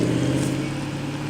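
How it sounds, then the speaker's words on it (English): A 2008 Mustang Bullitt engine drones nearby as the car pulls away, a steady mid-pitched rumble that eases off slightly over a brief moment with no talk. "Take a look at this car when he drives off."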